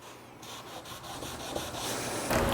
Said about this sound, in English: If you've got a little bit of glue squeeze out, just take a damp rag and wipe it away